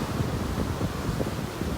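Gulf waves wash onto a beach in North Naples, Florida, as a continuous rough roar, with gusting wind rumbling across the microphone throughout and no voices.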